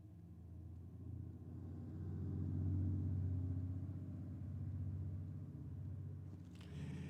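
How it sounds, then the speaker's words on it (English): A VL wagon does a burnout skid at Sydney Dragway, a steady loud engine rumble that swells and holds, heard from a distance with no talk. "We've got the VL wagon coming out for its second skid."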